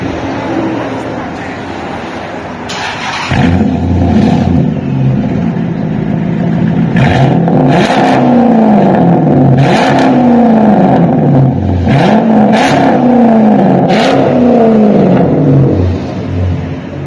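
Chrysler 300 SRT-8 with the 6.1L V8 revving hard through its exhaust, a loud, close, sustained roar with repeated rising blips of throttle, rumbling steadily for the whole stretch.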